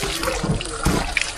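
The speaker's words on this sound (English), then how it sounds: "Meron silang outdoor shower dito." Water runs from an outdoor shower at a glamping resort in Moalboal, Cebu, splashing loudly and close in a continuous spray with irregular spatters, with no one speaking over it.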